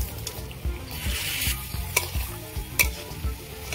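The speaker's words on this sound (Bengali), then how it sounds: "পেঁপেগুলো দিয়ে দিয়েছি, এইভাবে কিছুক্ষণ নাড়বো" Boiled papaya pieces are stirred through melted sugar syrup in a pan, with a gentle sizzle broken by rhythmic scraping strokes and a few sharp clicks of the spoon against the metal.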